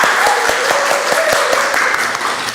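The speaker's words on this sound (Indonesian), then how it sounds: "Tepuk tangan untuk kalian semua." Classroom students applauding at the end of an arts lesson, a steady wash of clapping with distinct sharper individual claps standing out on top, close and loud, with faint voices underneath.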